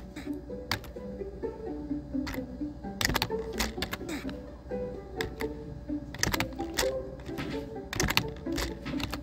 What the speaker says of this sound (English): Do you not hear my keyboard jumping?